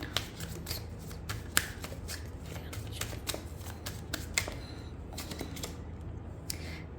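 Tarot cards are shuffled by hand in a quiet room. A close run of light, crisp riffling clicks and flicks carries on steadily, with no voices.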